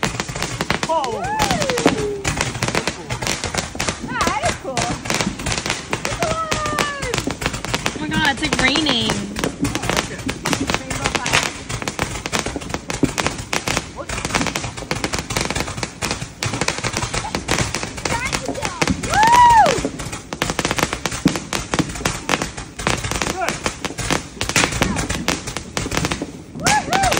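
A rifle-shaped consumer fireworks fountain for Independence Day crackles in a rapid, continuous machine-gun-like stream of pops throughout, loud and close, with excited voices talking and cheering over it.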